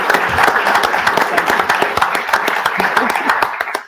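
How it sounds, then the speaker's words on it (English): An audience applauds a guest coming on stage at an automotive sustainability event, with distinct individual claps in a lively patter and voices talking over it, ending abruptly. "Ladies and gentlemen, big round of applause, Paul Humphreys"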